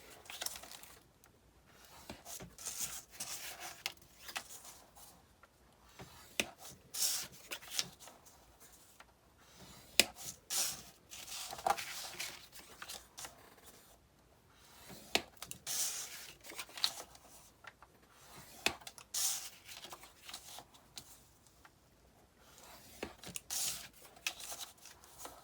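Paper pieces for a vintage camera memory box are scored at one and three-quarter inches, giving soft, repeated scraping and crinkling strokes up close, faint and uneven, with no speech.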